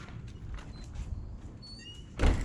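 A house door bangs open with a loud, close thump near the end, letting a dog inside. Before it there is only low, steady room noise.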